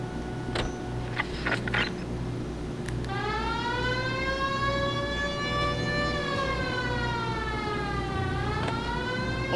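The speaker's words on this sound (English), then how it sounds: "We have a siren." A police car siren in the L.A. Noire video game starts up after a few knocks and wails loudly in a long rising and falling tone over engine hum.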